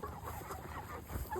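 Chickens clucking on a farm at feeding time, a low, faint mix of fowl calls heard close by with steady background noise and no talk.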